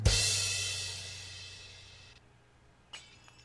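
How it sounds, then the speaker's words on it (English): In the LA Noire video game, glass smashes in one sharp, loud crash whose bright shards ring and fade over about two seconds, followed by a faint later clink. "Who just smashed glass?"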